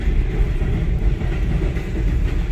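A New York subway train rumbles steadily past close by on Liberty Avenue, Queens, a loud continuous low roar with faint rhythmic rattling of wheels, no voices.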